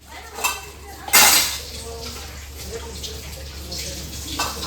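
Dishes are scrubbed and clattered in a home kitchen, with clinks of metal pots and utensils. Running water sits underneath, and one sharp louder clatter stands out near the start.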